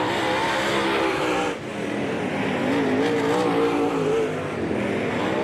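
Dirt track race cars roar around the Southern Ontario Motor Speedway, engines revving loudly and continuously with shifting pitch as cars power through the turns. A brief dip comes before the roar resumes.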